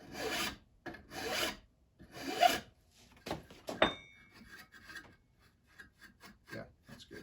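A hand file rasps across the edge of a steel card scraper in a series of short, quiet, evenly spaced strokes with faint metallic scratching between them.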